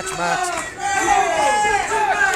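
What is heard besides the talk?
wrestling crowd cheering to rouse a wrestler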